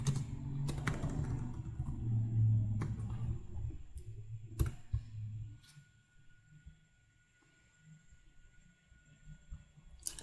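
Sharp computer mouse clicks, a handful spaced irregularly, close and distinct above a low steady hum and faint background noise while a website is built in a browser.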